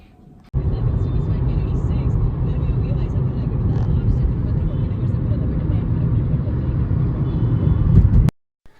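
A car accelerating onto a highway, heard as a loud, continuous rumble of road and engine noise for about eight seconds before cutting off abruptly.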